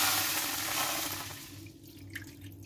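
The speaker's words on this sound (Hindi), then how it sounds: "इसमें हम पानी डाल लेंगे।" Water poured onto a hot griddle pan on a gas stove, a steady hissing, splashing rush that is loud at first and then fades into a softer sizzle with a few small pops, close by with no talk.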